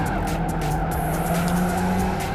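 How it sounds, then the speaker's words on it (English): A Mini Cooper in Gran Turismo 5 drives with a steady engine drone and a continuous, loud tire squeal that holds throughout. "now we're doing some mini driving around my Mini Cooper"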